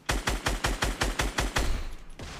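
Gunfire in Fortnite: a rapid burst of about nine evenly spaced loud shots, followed by a short lingering rumble.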